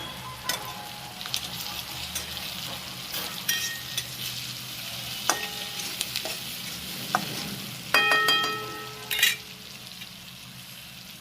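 Tomatoes dropped into hot oil with spices for poha sizzle and fry steadily, broken by clinks and scrapes of a spoon stirring in the pan, with a louder burst of sizzling near the end.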